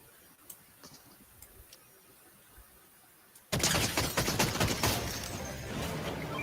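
Gunfire in the Fortnite video game: a few faint, isolated shots, then a sudden sustained burst of loud rapid gunshots that keeps crackling to the end.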